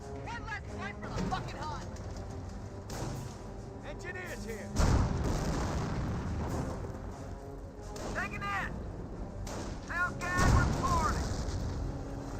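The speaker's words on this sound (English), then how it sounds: "Oh, Geschützwagen now firing away." Geschützwagen artillery in Company of Heroes fires in a few heavy booming shots spaced several seconds apart, set under steady talk and battle ambience.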